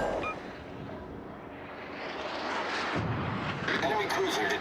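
World of Warships naval guns firing at an enemy warship, rolling heavy booms and rumbling blasts that swell toward the end over dense battle noise.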